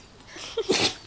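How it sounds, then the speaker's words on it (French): A short, sharp dog sneeze with a quick snort just before it, close to the microphone, in a quiet room. "À tes souhaits, Noun"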